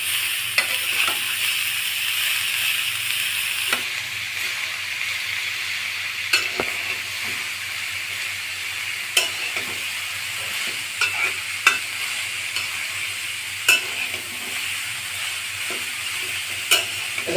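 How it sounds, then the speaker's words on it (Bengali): Sliced cabbage with spices and potatoes sizzles steadily in a pan while a utensil stirs it, with repeated scraping clicks over the constant frying hiss and no voices. "এখন নেড়ে বাঁধাকপির সাথে সবকিছু মিশিয়ে নিব।"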